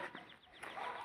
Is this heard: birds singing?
yes